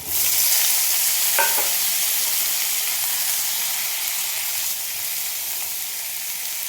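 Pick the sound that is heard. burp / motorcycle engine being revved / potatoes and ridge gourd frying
potatoes and ridge gourd frying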